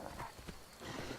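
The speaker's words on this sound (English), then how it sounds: "Golden Song is a wanky name for a horse." Horse hooves clop in Skyrim, a few soft, quick footfalls on the ground under a steady game background that is heard alone, without talk.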